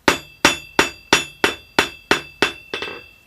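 Hammer blows on hot metal while forging a Mjolnir pendant, eight sharp ringing strikes at a steady even rhythm, close and loud, the last two quicker and softer.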